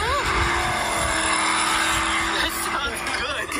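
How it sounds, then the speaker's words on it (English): A synthetic engine-like roar from a Borla active sound system on a Ford Mustang Mach-E electric car plays continuously and loudly, with a rising whine, while people talk over it. "Borla active sound for electric vehicles"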